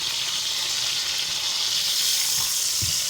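Chicken sizzling and frying in a pan, a steady loud hiss filling the whole moment, with a couple of faint low clinks near the end and no talking.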